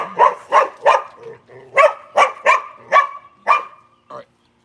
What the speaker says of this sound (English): she heard the squeak, so that's why she was barking it